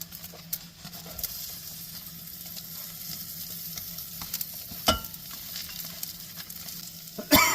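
Jalapeno fries lightly in bacon grease in a pan at a teardrop trailer campsite, a soft steady sizzle with occasional stirring scrapes and taps, fairly quiet and close.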